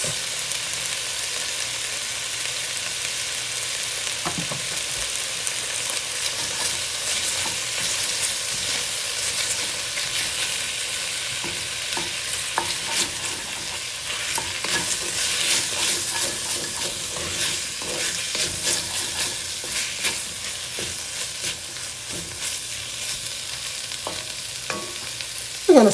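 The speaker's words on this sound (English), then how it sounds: "We're going to saute it for just a minute, and then we're going to add the remaining flour that's left." Tomato paste sizzles and fries in a beef stew pan, a steady broadband crackle with occasional spoon stirring scrapes, continuous and close throughout.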